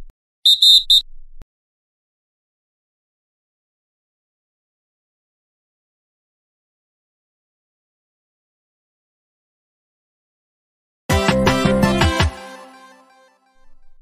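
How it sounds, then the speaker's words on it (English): Two sharp, high whistle blasts: a brief one at the start, then a longer, louder burst after a long silence, fading into a short tail. "When me and Knuckles blow our whistles, this will signal you to begin jumping rope."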